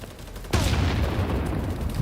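Gunfire erupts in the shooter game BattleBit, a sudden loud burst of shots breaking over quieter background noise and then rattling on in a dense fusillade.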